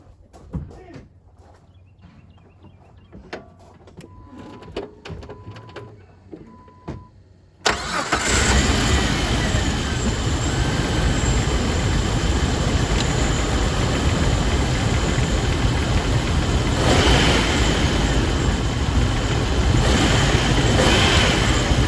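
A 1990 Nissan pickup engine turns over and catches after a quiet stretch of faint clicks, then settles into a steady, loud idle that runs on alone for the rest of the clip.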